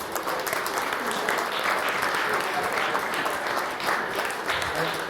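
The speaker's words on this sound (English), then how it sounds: "So give them a round of applause." A dense, even round of applause from a crowd gathered at a fishing tournament weigh-in carries on steadily for the whole stretch, loud and close.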